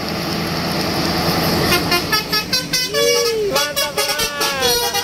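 A Simpatistar Sleeper bus goes by on the road, its engine roaring steadily while a series of short, loud horn toots ring out close by over the traffic noise.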